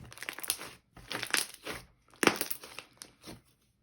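Thick, glossy pink slime loaded with red-dyed foam beads gets squished and pressed in several bursts, giving crisp, clicky crackles up close with short pauses between squeezes and no talking.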